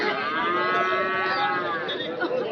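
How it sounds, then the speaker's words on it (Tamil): A Sahiwal cow at a cattle market in Anthiyur gives one long, loud, close moo that holds steady for a couple of seconds. "இது வந்து சாகிவால் மாடு"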